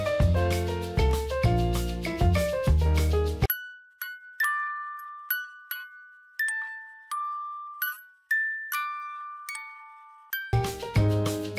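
A Mexico City metro door-closing chime rings out as a run of bright, bell-like tones, first dense and layered, then sparse single dings spaced apart, before a fuller flourish returns at the end, with no one talking.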